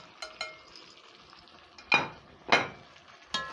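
Beef stew vegetables cooking in a pot, with several distinct stirring scrapes and soft clinks against the pot over a faint background sizzle, close by with no talking.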